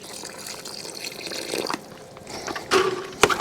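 Rainwater pours into a mixture, less than a litre, in an irregular gushing splash that stops and restarts, ending in a few short louder pours and clinks.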